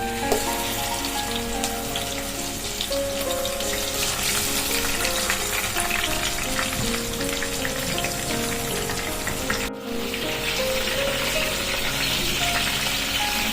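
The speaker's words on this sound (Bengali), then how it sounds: "এবার আমি মাছগুলোকে ভেজে নেব" Katla fish pieces frying in hot mustard oil in a pan, a steady close hiss and dense crackling sizzle that holds evenly throughout with no talking.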